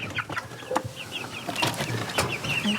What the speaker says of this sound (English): chicken that is escaping